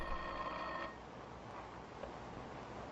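An old telephone bell rings close by in a 1950s detective TV drama, a bright metallic peal that cuts off about a second in, leaving faint room hiss.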